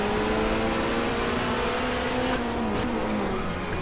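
A race car in the GTR2 video game, running a 1994 Asia-Pacific Touring Car Championship race, drops back to second gear: a loud, steady engine drone whose pitch falls, then shifts with a brief break before carrying on.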